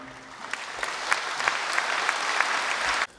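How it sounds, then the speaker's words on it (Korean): A hall full of delegates at the Presbyterian Church of Korea's 104th General Assembly bursts into steady, dense applause that swells for a few seconds and then cuts off abruptly. "이제 이 모든 분들을 위해 우리 큰 박수로 격려하고"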